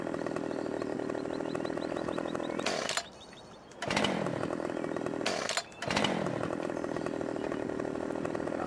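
Chainsaw cutting limbs off a felled tree in Farming Simulator 2015, a steady buzzing engine drone that drops out briefly twice and revs back up, with no talking.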